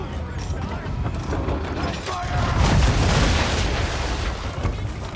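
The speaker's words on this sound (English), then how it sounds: "Bring around broadside, and when all guns are on target," Ship cannons fire a broadside in the game Assassin's Creed III: heavy rolling booms swell loudly mid-clip over creaking, clattering mechanical noise, close and dense.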